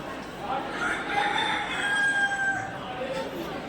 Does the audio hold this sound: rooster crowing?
yes